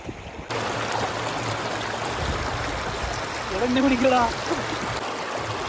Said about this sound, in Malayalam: റോഡിന്റെ മുകളിൽ നിന്ന് വെള്ളം ഒഴുകണ ഒഴുക്കണ്ടില്ലേ